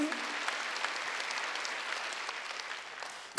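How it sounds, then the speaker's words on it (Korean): A church congregation at a Wednesday service claps in a steady, moderately loud wash of applause that fills the moment without talk. "박수 하세요. 그렇게."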